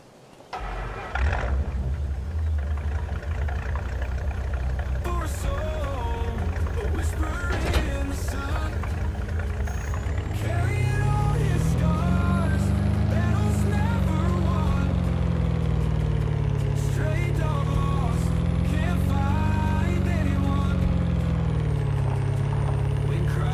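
A truck engine in Farming Simulator 25 idles and then revs up into a loud, deep drone that rises and falls in pitch as the truck drives, close and continuous, with no talk over it.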